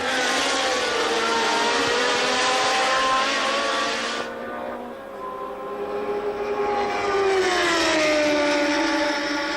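Formula 1 racing cars at the 1981 Italian Grand Prix at Monza scream past in a loud, continuous high-pitched engine wail, one pitch dropping away before another car's engine rises and holds, with no talk.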